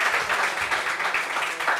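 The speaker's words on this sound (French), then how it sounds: "Applaudissements pour Audrey, s'il vous plaît." An audience at a talk-show discussion gives a short burst of applause for a participant, a steady, fairly close patter of many hands that holds evenly from start to finish.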